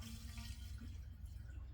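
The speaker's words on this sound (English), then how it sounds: "This is glugging." Fuel glugging out of a gas can fitted with a replacement no-spill nozzle, poured without the vent; a steady, close liquid pour with low gurgling pulses throughout, no talking.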